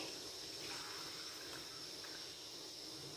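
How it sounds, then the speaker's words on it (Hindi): Plain water steadily poured into a cooking pot while making beef white pulao, a soft continuous hissing stream at even level with no talk. "बाकी हम इसमें सादा पानी ऐड करेंगे"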